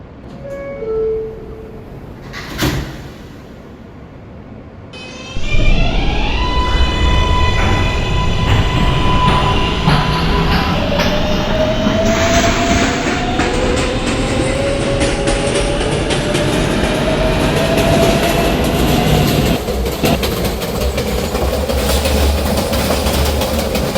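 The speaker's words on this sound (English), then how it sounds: "This is a Jamaica Center bound Z skip stop train" A Z skip-stop subway train bound for Jamaica Center pulls away from 104th Street, its motor whine rising in pitch while wheels clatter steadily on the rails, loud and close from inside the car after a quieter start.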